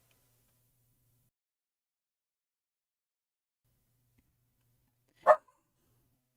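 A dog named Heidi lets out a single short bark, sharp and fairly close, after a long stretch of near silence.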